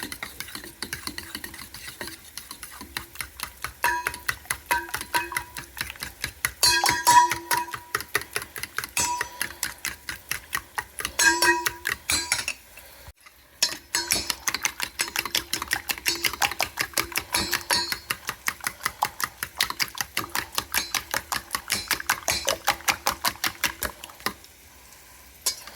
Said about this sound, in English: I'm gonna beat like this until all the masala is